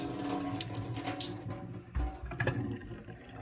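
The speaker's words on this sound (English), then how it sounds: "Here's the sink. Pour it here." Dirty water from a Bissell SpotClean carpet cleaner tank pours and splashes into a sink, a soft, steady trickling gush with a few louder sloshes, close by.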